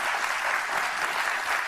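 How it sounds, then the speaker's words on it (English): An audience claps steadily in a dense, even wash of applause that stays constant throughout, moderately loud with no voices on top. "Oh, they clapping."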